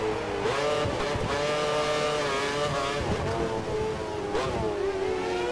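Formula 1 race car engine in F1 2013, a steady high-pitched whine held loud and close throughout, with brief dips and rises as the car corrects.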